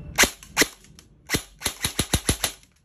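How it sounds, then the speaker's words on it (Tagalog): An EC 866 airsoft gun running on a LiPo battery is test fired, with sharp, close snapping shots: two single shots, then a rapid string of about six shots in quick succession, with no talking. "Test fire natin."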